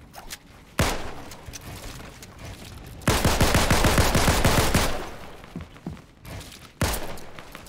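Gunfire in Fortnite: a sharp shot, then a long loud rapid burst of automatic fire, followed by scattered shots and a final loud single blast, no talk.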